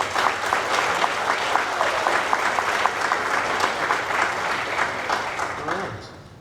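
Steady audience applause at an ELPS and ELEA recognition reception honoring retirees, a roomful of hands clapping evenly and fairly close for several seconds before fading out at the end.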